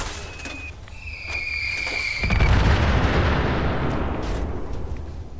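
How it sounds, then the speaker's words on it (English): A MIRV Fat Man in Fallout 76 fires a volley of mini-nukes; a rising whistle leads into a loud, broad, rumbling blast that swells and keeps roaring for several seconds. "The MIRV, if you didn't know, is a Fat Man that can shoot up to 9 nukes at a time."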